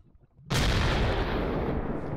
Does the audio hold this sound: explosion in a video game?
yes